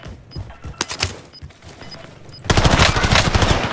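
Rapid automatic gunfire in a video game shooter, scattered bursts at first, then a loud, sustained barrage in the second half, with no talking.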